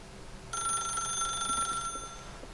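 A telephone rings in The Stanley Parable video game, a steady electronic bell tone with bright sustained harmonics starting abruptly and lasting about one and a half seconds, loud and alone with no talk.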